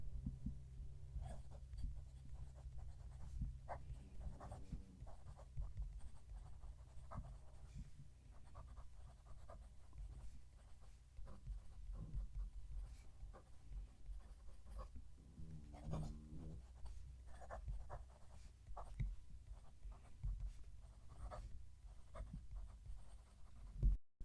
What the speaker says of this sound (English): We'll move the mic and write the sentence.